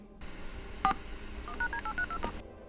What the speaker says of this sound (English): what sounds like almost a phone call being dialed that appears on many VHS tapes